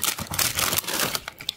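A plastic bag holding a blanket for a Schleich wedding carriage toy is opened up close, giving a short burst of dense crinkling and rustling that lasts about a second and a half.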